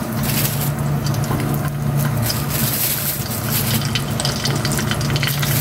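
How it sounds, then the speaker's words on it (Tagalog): Tuyo, salted dried fish, frying in a pan with a steady dense crackle and sizzle that runs unbroken and fairly loud, close to the pan, with no talking. "Prito naman ako ng tuyo."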